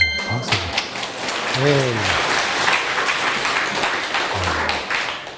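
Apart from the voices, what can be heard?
audience applause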